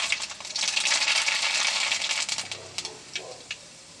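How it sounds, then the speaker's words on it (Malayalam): Mustard seeds hit hot oil in a clay pot while Kuttanad-style fish curry is cooked, giving a close, busy crackle and patter of tiny pops that thins out into scattered sputters. "നമുക്ക് കടുക് ഇട്ട് കൊടുക്കാം."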